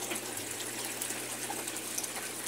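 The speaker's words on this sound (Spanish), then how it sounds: "Vamos a esperar que termine de sacar el agua para que empiece a exprimir." A Whirlpool semi-digital top-load washing machine drains water from its tub ahead of the spin cycle, giving a steady, even gush and pump whir that holds at moderate level throughout, with no voices.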